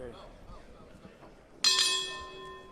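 A boxing-style bell rings once, sharp and metallic, to start an Eagle FC MMA fight, its ringing tone decaying under commentators' talk and crowd noise.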